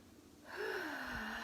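A breathwork session brings one drawn-in breath after a brief quiet start, a sharp gasp-like inhale that rises and then holds steady and fairly close for about a second.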